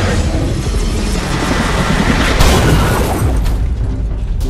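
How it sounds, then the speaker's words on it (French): A helicopter crash explosion in a dramatized scene, a loud, dense, sustained roar of blast and rumble that fills the whole clip without pause. "Quand l'hélicoptère s'est écrasé"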